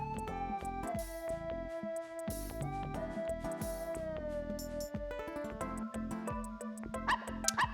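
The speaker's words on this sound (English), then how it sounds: "Bark, bark." Small, cartoonish dog characters named Bit, Bolt and Bork bark and yip in a Switch arcade game, the short bursts layered over sustained tonal game music.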